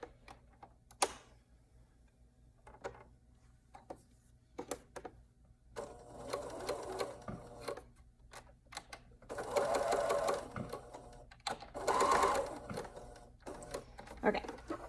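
A sewing machine bastes arm warmer pieces together in several short bursts of close, rapid stitching separated by quiet pauses and small handling clicks.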